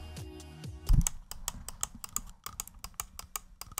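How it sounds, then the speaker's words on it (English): Cougar 550M gaming mouse squeezed by hand, giving a run of sharp, close, dry clicks after a low thump, ticking in a loose, irregular rhythm with no talking. "you can hear that it's actually clicking something"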